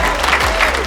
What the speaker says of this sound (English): Only place where we would get that kind of round of applause for the ship.